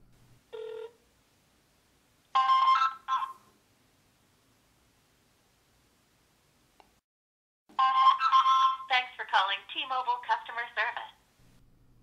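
A phone call to T-Mobile placed on speakerphone from an unlocked iPhone with an unofficial SIM, with short tones and chimes followed by a long stretch of electronic ringing and prompts, separated by silent gaps.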